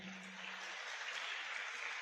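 Audience applause at an indoor gathering, a steady wash of hand clapping from a crowd, moderately loud and continuous for a couple of seconds.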